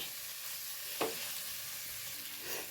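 Chicken masala roasts in a pan with a soft, continuous sizzle and one brief clink of a utensil near the middle. It is fairly quiet and there is no talk.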